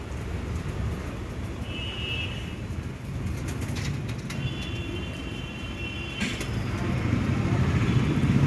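Chennai-breed pigeons, a male and a female kept in a cage, coo faintly amid steady outdoor background noise, with occasional brief higher tones and a louder rumble building toward the end.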